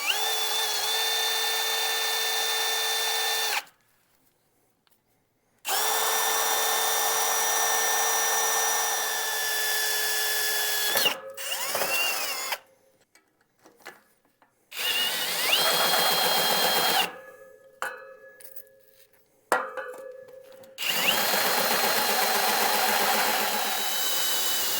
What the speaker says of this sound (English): So I'm going to go ahead and try drilling by hand and see what happens.